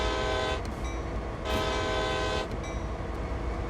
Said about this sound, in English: So the horn now works on this train.